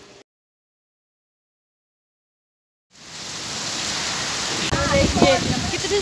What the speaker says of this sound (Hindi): कितनी सारी जोर की बारिश लगी है